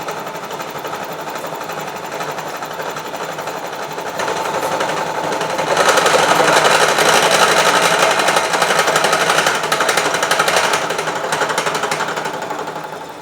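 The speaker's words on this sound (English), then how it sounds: "I'm just going to take a very light cut here and hand crank it in" A vertical slotter takes a very light, hand-cranked cut on a custom tool holder fixture, giving a fast, rapid mechanical chatter. It starts moderate, then grows louder and denser midway before easing slightly toward the end, with no talking.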